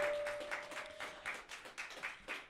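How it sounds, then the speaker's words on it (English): Audience applause at an open mic night: scattered hand claps rise and fall in uneven bursts for a few seconds, fairly faint and roomy, with no voices over them. "Give yourselves a round of applause."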